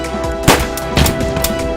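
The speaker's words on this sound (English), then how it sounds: "A single gunshot resounded from the hallway" A single gunshot rings out loud and sharp in a video game, with a second similar crack following about half a second later over steady background ambience.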